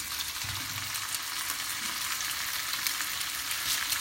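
Cooked pasta sizzles steadily in a hot pan with bacon and caramelized onions, a continuous close frying hiss with faint stirring scrapes and no talk.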